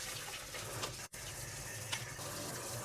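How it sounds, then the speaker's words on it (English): Saltwater fish tank equipment rinsed under a running tap, a steady close gush of water with a brief interruption partway through, no speech. "Give it a good rinse."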